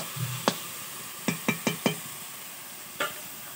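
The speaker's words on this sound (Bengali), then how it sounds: "এবারে এটা মশলাটাকে ভাজতে দেবো" A spice mixture fries quietly in a pan on a home stove, under a series of sharp knocks and clinks from a utensil striking the pan, several in quick succession and one more a moment later.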